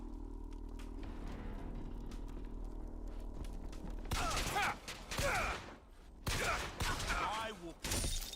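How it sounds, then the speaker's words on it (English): Rapid bursts of gunfire and impacts in the Bioshock Infinite video game, loud clustered volleys after a quieter stretch, with a voice speaking briefly. "Who's shooting at me?"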